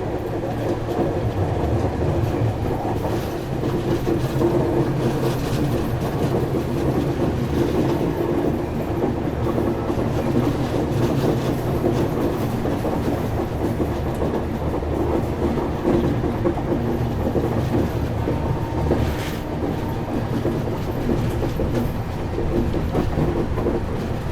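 Rameshwaram–Firozpur Humsafar Express rolling through a curve near Ratlam Junction, heard from inside a coach: steady loud rumble with rhythmic clickety-clack of wheels over rail joints throughout.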